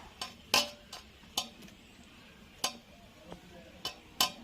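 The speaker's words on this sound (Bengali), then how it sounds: "আদার রসের মধ্যে হিং দিয়ে একটু নাড়িয়ে রেখে দেব" A spoon clinks against a small bowl while asafoetida is stirred into ginger juice, making a series of sharp, light taps at an uneven pace, fairly quiet, with no talking.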